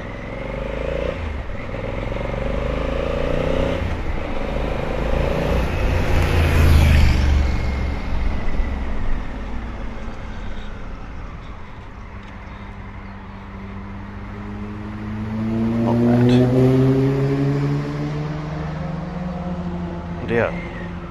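A 2020 Honda Africa Twin CRF1100 motorcycle's engine runs steadily while being ridden and turned around, its pitch rising and falling through two swells of throttle over a constant rumble and wind.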